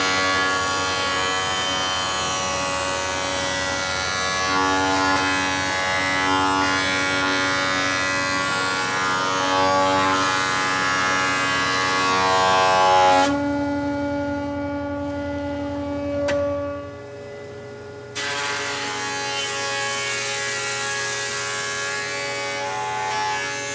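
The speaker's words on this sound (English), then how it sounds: "Let's try this out on a real piece of wood through the joiner" Jointer cutting across a real wooden board, a steady loud motor whine with stacked harmonics that dips in tone mid-pass, briefly drops out, then resumes running alone without talk.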